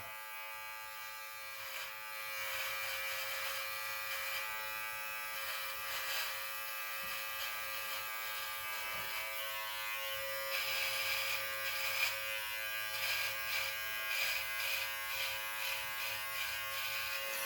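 A Brio Beardscape Pro electric beard trimmer runs continuously with a steady, close high-pitched motor buzz that shifts slightly in tone as it moves through hair, with no talking.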